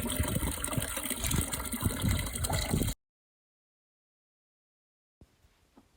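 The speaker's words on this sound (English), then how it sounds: "First filling of the concrete cattle waterer." Water gushing hard into a concrete cattle waterer on pasture, a loud, dense, steady rush for about three seconds, then silence, then a faint trickle at the end.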